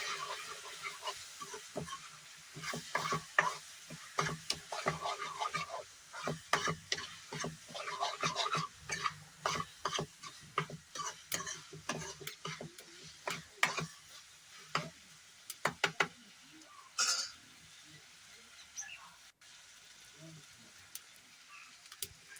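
Masala spices are stirred and mixed in a cooking pan for a matar and tamatar curry, with repeated scraping, rubbing strokes and soft sizzling in uneven bursts, close up, no speech.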